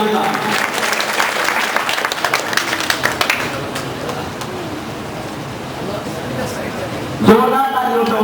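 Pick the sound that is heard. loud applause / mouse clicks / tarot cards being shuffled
loud applause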